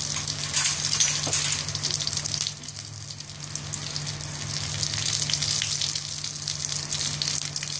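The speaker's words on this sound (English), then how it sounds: "It's in sim flame now. It's getting cooked slowly." Stuffed brinjal fries slowly on a low flame, giving a soft, steady sizzle and crackle with occasional faint pops, quiet and continuous with no voices.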